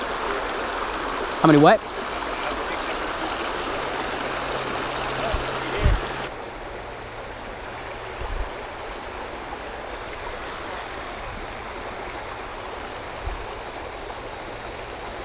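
Creek water runs over rocks in a steady, close, broadband rush that persists throughout, with a brief voice and a few faint knocks and handling bumps over the flow.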